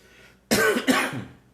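A single short, harsh cough from one person, close and loud in two quick bursts, heard alone against a quiet room.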